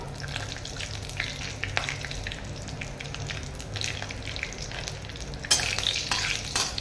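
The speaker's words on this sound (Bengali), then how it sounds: "5 ফোড়ন দিয়ে দেবো। শুকনো লঙ্কা ফোড়নে দিয়ে দেবো।" Bengali five-spice (panch phoron) and dry red chillies frying in hot oil for a tempering, with a steady soft crackle, light stirring and spoon clinks, and a brief louder burst of sizzle near the end.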